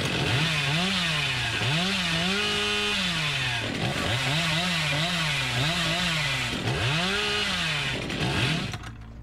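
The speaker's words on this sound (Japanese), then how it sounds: "もっとチェーンソー、もっとチェーンソーが血を吸いたいと言ってるぞ" The Hillbilly's chainsaw revving in the video game Dead by Daylight, with loud, continuous engine roars that repeatedly rise and fall in pitch in rhythmic cycles.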